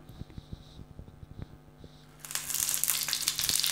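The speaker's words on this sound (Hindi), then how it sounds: "अब हम इस पर हरी मिर्च डालेंगे" Green chilies hit hot oil on a tawa with a sudden loud, hissing sizzle that swells and keeps crackling steadily, after a few light taps and clinks in a quiet kitchen.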